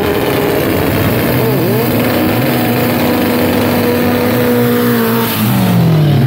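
Race car engines roar loudly from start to finish at a drag race, one of them a VW Gol Big Blue, with a steady high engine drone and pitch sweeps as the cars accelerate.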